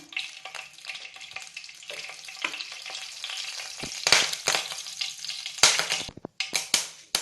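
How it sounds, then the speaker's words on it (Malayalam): Mustard seeds spluttering in hot coconut oil in a pan, a crackling sizzle with sharp popping bursts that turn into scattered loud pops near the end, with no voices. "ഇനി ഒരു പാൻ ചൂടാക്കി വെളിച്ചെണ്ണ ഒഴിച്ചു കൊടുക്കാം. കടുകിട്ട് പൊട്ടിക്കാം."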